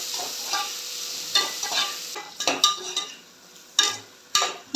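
Peas, chopped spinach and mixed vegetables sauté in a pan with a soft steady sizzle, broken by several sharp clinks and scrapes of a spoon stirring against the pan, with no voices.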